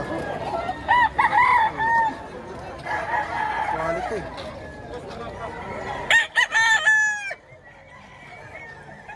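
A rooster crows loudly near the end, with clucking fowl and someone talking through much of the clip, at a poultry market in Padre Garcia, Batangas, Philippines.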